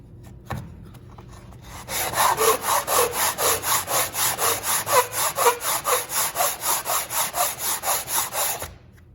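Sandpaper rubbing back and forth over the wooden side kerfing of a handmade ukulele, a steady close rhythm of about twenty even strokes with nobody talking.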